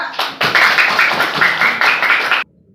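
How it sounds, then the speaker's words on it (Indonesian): Students in a classroom clap for a student group in a short burst of close, loud, rhythmic clapping that stops abruptly. "tepuk tangan untuk kelompok 2."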